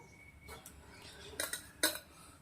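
Peanuts, chickpeas and puffed rice are stirred in a bowl as a quiet rustle, then a spoon clinks against the dish in two or three sharp, close taps.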